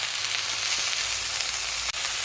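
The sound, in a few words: drumstick leaves frying and being stirred in a pan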